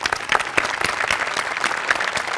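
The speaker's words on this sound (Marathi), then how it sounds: "तुमच्या सगळ्यांसाठी एकदा टाळ्या." A studio audience at a Marathi comedy show claps in dense, lively applause, many hands close and loud throughout.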